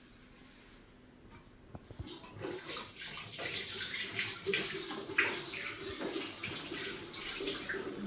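Pooja items being washed under running water, a steady splashing flow rising after the first couple of seconds with faint handling clatter, close and continuous.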